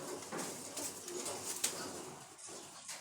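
Domestic pigeons coo softly and faintly, with low murmuring calls and a few light rustles in a quiet loft.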